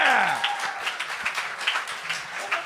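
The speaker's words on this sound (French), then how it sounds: "On applaudit tout le monde!" Small studio group clapping for live podcast listeners, scattered hand claps with a brief cheer at the start, moderately close and continuing steadily under voices.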